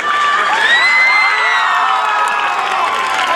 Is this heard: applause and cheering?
yes